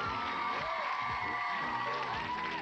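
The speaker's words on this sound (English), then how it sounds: "Give her a big round of applause, guys." A studio audience at a 1994 children's geography game show applauds and cheers, a steady wash of clapping with whoops and tonal music running underneath.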